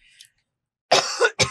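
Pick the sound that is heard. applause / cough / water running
cough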